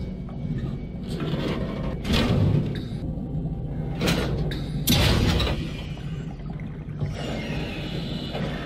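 A massive door grinds open in the horror game SOMA: a steady mechanical rumble punctuated by several heavy clanking bangs, loud and close, with no talking.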